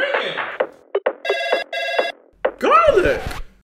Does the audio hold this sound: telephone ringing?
yes